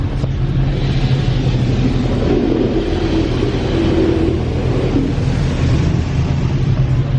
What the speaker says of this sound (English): in the car wash right now